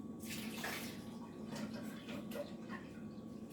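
Water pours and splashes steadily into a container while making coquito, a continuous rushing trickle with faint background hum.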